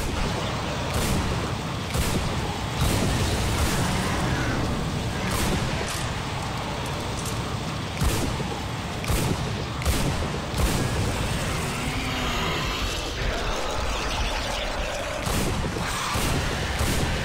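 Sustained gunfire and booming blasts from the first-person shooter Bulletstorm, a dense barrage of repeated shots and thuds running steadily throughout with no pause, loud and close.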